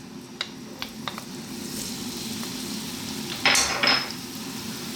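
Onion and garlic dropped into olive oil in a pan over medium heat, giving a steady low sizzle with a few light clicks and a louder burst of frying and stirring near the end.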